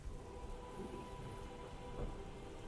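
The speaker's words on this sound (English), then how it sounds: "Just gonna walk through the rain through the night." Steady rain with low rumbling thunder fills a night scene on a street where a carriage is hailed during a tabletop role-play session, a constant wash of downpour with no talk.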